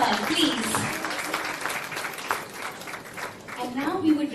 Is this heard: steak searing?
no